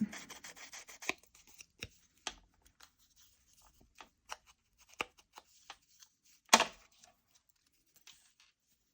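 Paper torn for a junk journal gives a close, crisp rip, followed by scattered small rustles and taps and one louder tear partway through, in an otherwise quiet room.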